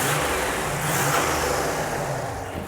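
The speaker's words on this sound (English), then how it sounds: "You want to give it some gas so they can hear it back here?" A Buick Grand National engine revs under added throttle, a loud continuous mid-pitched roar swelling and easing slightly over a couple of seconds, close by with no speech.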